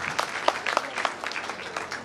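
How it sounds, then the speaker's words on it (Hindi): Audience applause at an award ceremony honouring meritorious students of the Kacher community, a steady crowd clapping with scattered sharper claps, moderately loud and continuous throughout, with no voices over it. "तालियां, तालियां"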